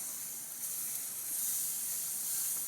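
Steam hisses steadily as meat juices drip onto the hot runners of an infrared patio grill, a soft continuous sizzle with no talking.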